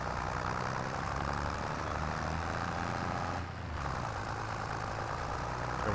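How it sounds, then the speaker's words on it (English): In Farming Simulator 25, a tractor engine labours uphill with a dense, steady droning roar that holds at a constant loudness throughout, briefly dipping once near the middle, with no talk. "Tractor's struggling to pull this thing up the hill the rest of the way."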